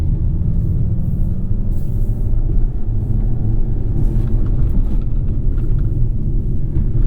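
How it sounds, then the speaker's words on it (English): A 2025 Nissan Kicks on 19-inch wheels rolls over broken pavement, heard from inside the cabin as a steady low road rumble with faint thumps from the rough surface and no talking. "Went over this really broken section of pavement."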